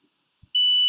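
An Arduino buzzer switching on with a sharp, loud, sustained high-pitched beep after a brief near-silence and a soft click.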